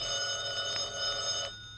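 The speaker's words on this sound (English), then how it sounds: "Answer the phone, Mary." A telephone bell rings in a brief metallic trill that stops abruptly, from an old radio comedy.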